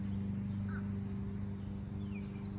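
Faint crow caws outdoors, a couple of brief calls at a distance set against a constant low droning hum of activity close by.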